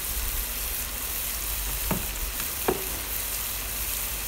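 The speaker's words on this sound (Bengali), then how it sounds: "এখন আরেকটু ফ্রাই করে নিব।" Nasi goreng ayam with black pepper stir-frying in a pan, a steady hiss of sizzling with a couple of faint utensil taps, no talking.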